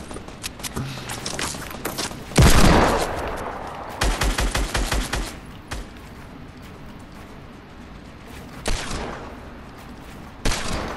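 Rapid bursts of Fortnite gunfire aimed at a wall, loud and close, with sharp volleys separated by short pauses and a few heavier single blasts.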